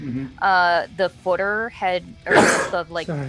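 A single loud sneeze bursts out in the middle of conversational speech, with people talking before and after it.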